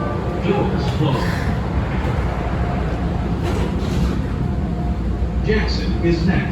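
A Chicago CTA Blue Line train pulls away after its doors shut, heard from inside as a loud continuous rumble and rattle with occasional brighter hissing bursts.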